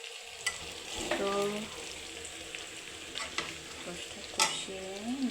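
Duck meat, salted, is sautéed and stirred in a pan with a continuous oily frying crackle. Sharp spatula scrapes strike at irregular intervals, and a voice briefly speaks over it a couple of times.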